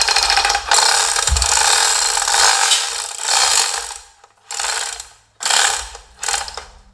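A ratcheting hook strap on a Harbor Freight 1-ton gantry is cranked tight, with loud raspy clicking strokes in bursts that break off and restart, close and alone.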